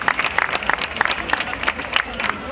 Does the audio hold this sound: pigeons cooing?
no